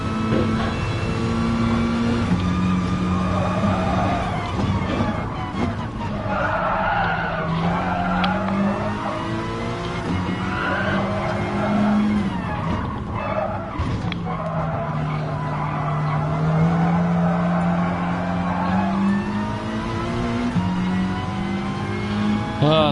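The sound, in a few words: race car lap in Gran Turismo Sport video game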